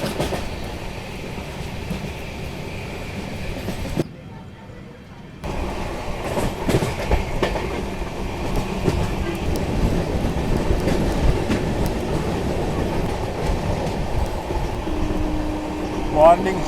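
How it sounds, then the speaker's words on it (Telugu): A long-distance LHB-rake superfast express on the Vijayawada–Chennai line rumbles steadily on the rails with rhythmic clickety-clack and a brief dip, heard from inside the coach while another train, the Morning Star, overtakes alongside. "ట్రైన్ ఓవర్టేక్ చేసి ఇదిగోండి మన పక్క నుంచే వెళ్తుంది మార్నింగ్ స్టార్"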